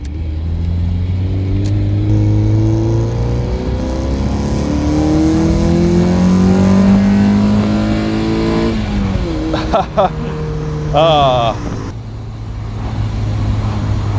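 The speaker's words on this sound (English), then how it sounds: "There's a certain satisfaction about really revving out an MX-5." A Mk2 Mazda MX-5 engine revs hard, loud and near, pitch climbing through the gears in rising sweeps, then dropping and rising again briefly near the end.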